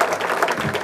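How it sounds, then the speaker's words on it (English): An audience at the 2017 Pride of the Peake fundraising evening claps for itself, a brief, steady burst of crowd applause that fills the room. "Give yourselves a round of applause"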